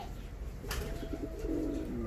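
Ornamental pigeons coo in their coop, with soft low throaty calls close by over a faint background hum.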